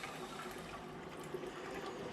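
An aquarium air pump pushes air through an airline into a tank fitted with a small internal filter, giving a faint, steady hiss of fine bubbling water that runs unbroken throughout.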